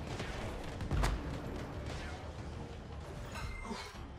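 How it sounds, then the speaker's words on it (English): An explosion in the video game Anthem: a single muffled blast bursts out about a second in, fairly distant and soft, over a steady bed of rumbling game ambience. "Something exploding over there."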